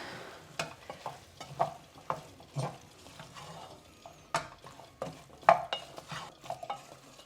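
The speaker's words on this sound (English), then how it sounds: "Now I'm going to throw in the Lauki, the gourd. Right, a mix." Lauki gourd pieces being stirred into a pot of dal, heard as a series of close, irregular spoon knocks and scrapes with a light sizzle underneath and no talking.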